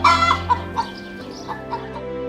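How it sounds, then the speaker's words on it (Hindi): Cartoon chickens kept near a village house cluck in a quick series of short calls, close and clear, with no talk over them. "वो उनके घर के पास मुर्गियों को पालते थे"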